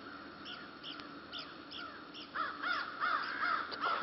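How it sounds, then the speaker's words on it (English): Crows cawing in a natural area, a series of harsh caws, distant at first and then louder and more overlapping as several birds call together. "Crows."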